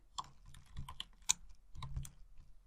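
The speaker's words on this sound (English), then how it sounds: "which I'm typing, and no spaces" Typing on a computer keyboard, a quick irregular run of close, crisp key clicks and taps with short pauses in between, and no voice over it.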